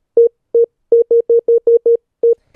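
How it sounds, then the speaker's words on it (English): A ReaSynth synthesizer in Reaper plays a programmed rhythm: nine short, clean notes on a single mid pitch, spaced unevenly with a quick cluster in the middle, heard alone against silence. "this is the same synth, Ria Synth that comes with Reaper"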